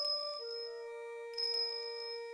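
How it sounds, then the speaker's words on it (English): Clear, sustained bell tones ring out in the Ace Attorney video game, with a second chime struck partway through, bright and ringing over a quiet background with no talk. "His appearance was always announced by the sound of bells."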